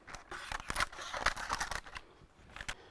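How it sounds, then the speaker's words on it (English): Scissors trim paper while caramel monkey bread is prepared, a close, quiet series of quick crisp snips with no voices. "What I like to do is trim the paper."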